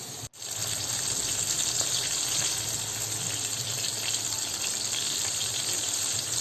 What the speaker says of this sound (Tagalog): Piprito natin yung ating potato.